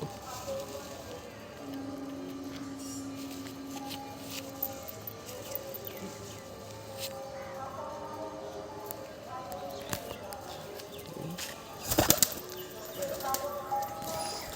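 Kaldom pigeons in a loft, housed with Madrasi birds and old-style feather-footed local pigeons, give a soft murmur and steady hum, with a brief burst of wing flapping near the end.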